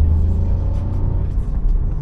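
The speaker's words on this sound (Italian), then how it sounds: "Proviamo un'accelerazione un attimo. Sentite il rumore dei tre cilindri?" A Jeep Avenger with a 1.2-litre turbo three-cylinder engine accelerates, its low, steady rumble droning loudly and close for about two seconds with no talk over it.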